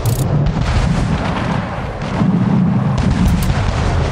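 Cannon and mortar fire in the Anno 1800 strategy game, a sustained barrage of deep booms and rumbling blasts layered over one another for several seconds, with a couple of sharper cracks near the end and no talk.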